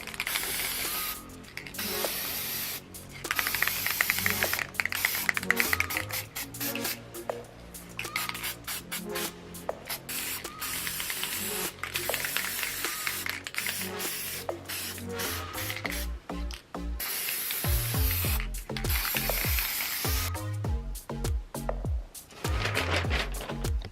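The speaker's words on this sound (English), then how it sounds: "right now I'm just going to spray paint these horns" Black spray paint hisses in bursts from a can onto costume horns, interspersed with rattling, clicking can-shaking and nozzle sounds, close and fairly loud, with no speech.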